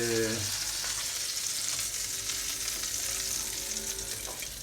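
Mumbar, stuffed intestine prepared Cretan style, fries in a pan with a loud, dense, continuous sizzle and crackle that holds steady throughout.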